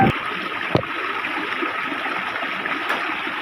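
A stream's water flows and trickles steadily nearby, a continuous rushing wash broken by a couple of brief knocks.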